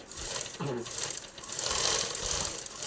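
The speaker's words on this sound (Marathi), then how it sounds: "इथं मी शिलाईसुद्धा मारून दाखवत आहे" Electric motor fitted to a home sewing machine, stitching as the motor runs in a steady, fairly quiet whirring rattle close by, with no talk over it.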